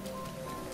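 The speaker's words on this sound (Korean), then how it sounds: "아, 비가 와서?" Rain falling in The Legend of Zelda: Breath of the Wild, a soft, steady wash of rainfall with a faint tonal game hum beneath, low in level and without voices.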